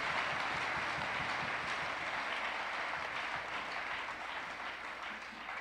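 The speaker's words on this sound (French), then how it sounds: "Nous allons acclamer pour le Seigneur, pour sa grâce du jour." Church congregation applauding together in acclamation during a worship service, a dense, sustained roar of many hands clapping at once, loud and continuous, fading slightly toward the end with no clear speech.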